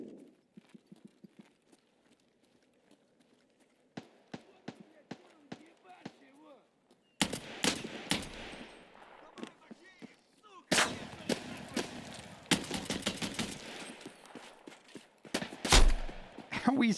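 Video game gunfire from Escape From Tarkov comes as sharp shots, first a quick run of light pops and then loud, dense volleys and single cracks, mixed with footsteps and game noise while players talk.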